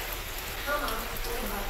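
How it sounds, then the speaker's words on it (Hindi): Steady hiss of monsoon rain falling in Gwalior, Madhya Pradesh, an even wash of drops on surfaces, with a faint voice briefly underneath. "देखिए ग्वालियर में बारिश हो रही है"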